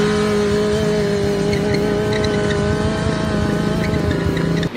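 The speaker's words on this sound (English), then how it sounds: "A burnout is probably the easiest thing you can do on your motorcycle to just have some fun" A motorcycle does a burnout, its engine holding a loud, steady high-rev drone under a continuous rough tire squeal close by for several seconds.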